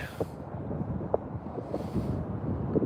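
Steady wind rushing across the microphone beside a canal, a low continuous roar with occasional gusty thumps.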